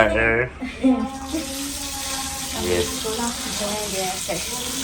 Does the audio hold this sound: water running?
yes